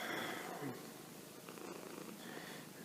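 Close, steady purring from a pet cat called Patsy, a continuous low rumble that swells slightly midway, with faint rustling and no speech.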